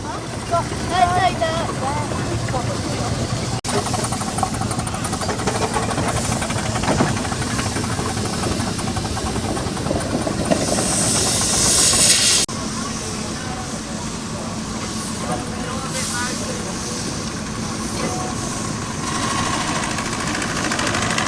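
A vintage steam engine runs at an outdoor vintage show with a constant mechanical churn and hiss, and a sharper, brighter blast of steam bursts out briefly near the end.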